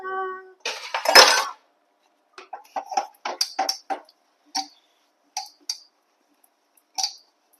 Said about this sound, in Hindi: तो बर्तनों का काम हो गया गाइस